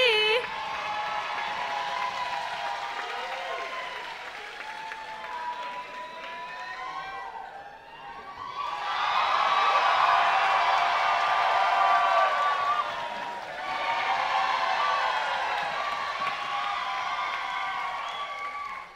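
A crowd at a Jack & Jill dance competition final cheers, whoops and applauds loudly in long waves, with a brief lull in between and a second surge, all under an announcer speaking.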